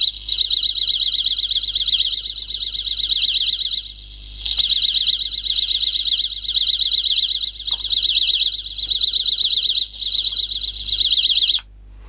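A telecom Loopaline pair finder and tester sends a loud, warbling electronic test tone down a telephone line, pulsing in repeated bursts with brief gaps, close and alone.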